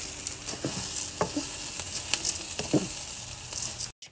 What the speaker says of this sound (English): we're gonna mix the onions with the maftoul so that it smells so good